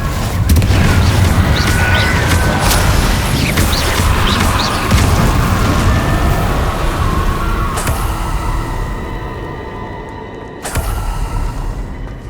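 Fire and blasting spells in Hogwarts Legacy, a dense, loud run of booming impacts and crackling blasts that continues for several seconds, tails off, then is cut by one sharp burst near the end.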